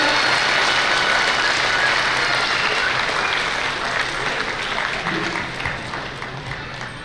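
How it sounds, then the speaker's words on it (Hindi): A crowd at a Meena community gathering in Kutch bursts into strong, dense applause to welcome arriving guests, loud at first and gradually thinning out over about seven seconds. "एक बार जोरदार तालियों से सभी का स्वागत किया जाए"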